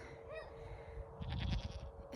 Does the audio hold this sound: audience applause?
no